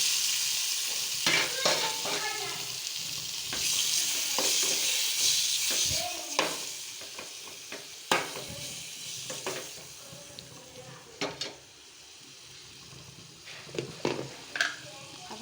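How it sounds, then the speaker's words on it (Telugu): Tomatoes in a little hot oil sizzle with a bright, steady hiss while a spoon scrapes and clinks through the pan in repeated stirring strokes, louder at first and then settling into intermittent scrapes. "కాసేపు వేయించుకుందాం."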